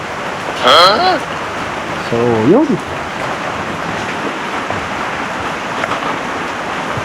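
Mild rain falls steadily over an outdoor vacant lot, a soft continuous wash of broadband noise throughout, with brief talk near the start.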